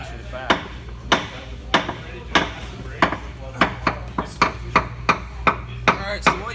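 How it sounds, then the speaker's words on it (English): Sharp metallic clicks repeat at a fairly even pace as a wrench ratchets back the slack adjuster on a brake drum to loosen the shoes. The strikes are close and loud, roughly a dozen of them, with no talking. "we have to take the slack adjuster and ratchet it back"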